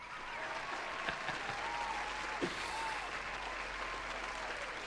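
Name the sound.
round of applause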